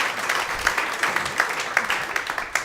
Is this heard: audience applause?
yes